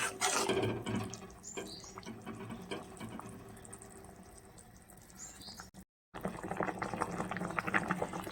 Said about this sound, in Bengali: জলটা এখন কিছুক্ষণ ফুটিয়ে নেব কপিগুলো সিদ্ধ হবে